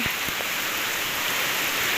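Long, steady rain falls on surfaces as a constant dense hiss with a few sharper drips near the start, and no voices.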